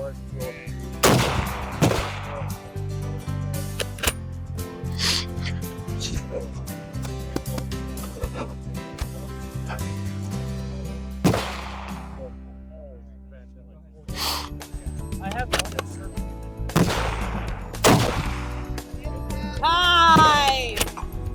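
Rifle shots ring out again and again at a winter PRS precision rifle match, sharp loud reports with echoing tails, spaced irregularly through a steady background, with people talking in between.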